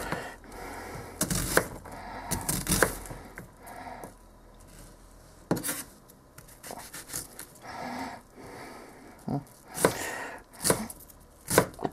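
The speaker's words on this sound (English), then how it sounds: "Really nice onion dicing here." A kitchen knife dices an onion on a cutting board, giving quick, uneven bursts of close taps and crunchy chops, a few louder strikes among them, with soft rustling between the cuts.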